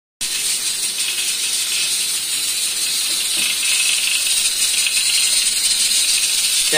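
A pressure cooker hisses steam in a home kitchen, a loud, steady, high rushing jet that starts abruptly and continues unbroken.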